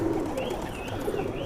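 A Madrasi pigeon coos close by in soft, low, rolling notes over a faint background murmur.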